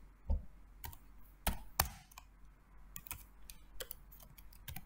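Sparse, irregular keystrokes tap on a computer keyboard, quiet and close, with a few sharper clicks between short pauses.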